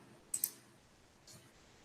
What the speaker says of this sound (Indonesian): klik open.